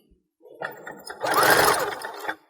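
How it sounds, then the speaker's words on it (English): A sewing machine stitching the seam of a ruffle for a dance skirt, a short start-up whir rising into a fast steady run before stopping, close and clear with no voices. "And then I'm going to sew them together, creating a seam,"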